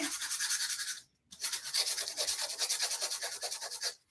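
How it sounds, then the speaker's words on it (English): Sandpaper rubbed by hand to file down punched holes in paper or cover board while preparing single-needle Coptic bookbinding, quick rhythmic close-up scratching strokes with one brief pause. "all I'm doing is taking the sandpaper and getting those holes filed down some."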